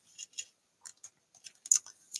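Scissors snip through a clear window sheet while a handmade card is being trimmed, giving sparse, quiet, close clicks and cuts spaced irregularly over a near-silent background.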